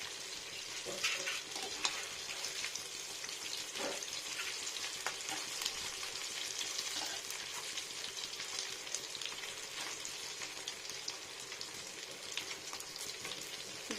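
Chara pona fish coated in mint, garlic paste, salt, turmeric and chili powder frying in shallow hot oil, a continuous bright sizzle with scattered pops and crackles, fairly soft, no talking.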